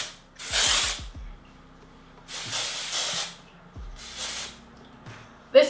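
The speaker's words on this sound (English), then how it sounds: "I like to go in with the Dry Texturizing Spray again" Three separate hissing bursts of dry texturizing hair spray, close by, each lasting about a second with quiet pauses and faint clicks between them.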